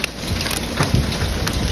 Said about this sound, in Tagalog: Umuulan ng ice guys, no?